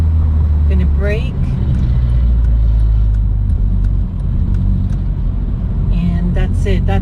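Manual-transmission car braking gently in traffic behind a minivan, heard from inside as a steady low engine and road rumble that stays constant throughout, with brief bits of voice near the start and end.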